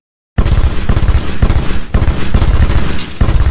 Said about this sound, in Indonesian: Hotung berhasil membunuh Fit dengan senjata AKM yang ia miliki.